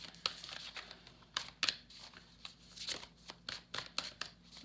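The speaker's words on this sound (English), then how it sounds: "I'm going to shuffle until we get our message here from Spirit." Oracle cards being shuffled by hand, close and crisp, in repeated papery riffling bursts with brief pauses between, with no talking.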